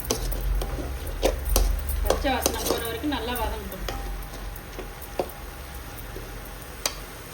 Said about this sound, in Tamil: இப்போ வதங்கிச்சு இஞ்சி பூண்டு பேஸ்ட்டாக சேர்த்துக்கலாம்